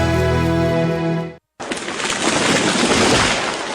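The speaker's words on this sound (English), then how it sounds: "That was the sound of a tree falling." A tree falls as a loud, sustained crashing rush of broad noise that follows a brief silence cutting off a tonal music bed.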